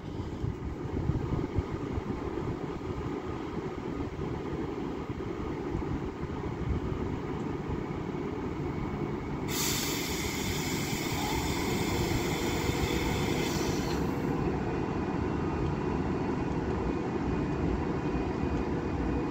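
Avanti West Coast Class 390 City of Stoke-on-Trent pulls away from Wigan North Western, a steady, fairly distant electric train rumble with a high whine that rises midway and then fades, no talking.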